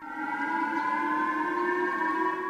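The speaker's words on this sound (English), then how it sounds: "sirens sounded in Hokkaido as a public alert was issued" Civil defense sirens wail across Hokkaido during a public missile alert, a steady layered tone holding continuously and sounding distant but clear.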